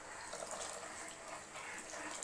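Roasted gram flour batter poured into a pot of boiling water for idli sambar, a steady close liquid rush and bubbling that runs throughout without talk.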